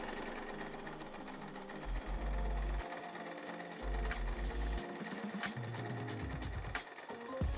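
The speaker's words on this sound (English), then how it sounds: "When sewing your fabric, you don't have to look at the needle." A sewing machine stitches fabric in a steady, loud whirr that runs in bursts, pausing and restarting several times, with a deeper motor hum under the needle chatter and no voices.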